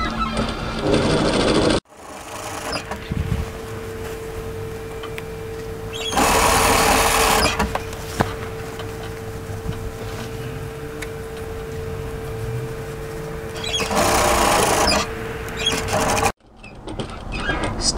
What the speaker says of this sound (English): stitch across the top matching all your notches